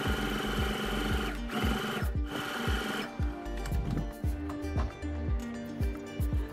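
A sewing machine top-stitches a blouse in quick, rhythmic bursts, close and loud, with short pauses between runs.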